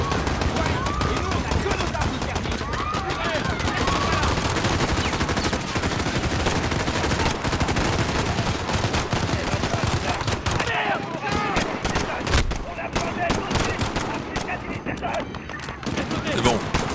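Rapid bursts of automatic gunfire and single shots crackle continuously in Call of Duty: Modern Warfare at Piccadilly Circus, with French voices talking underneath amid the chaotic battle noise.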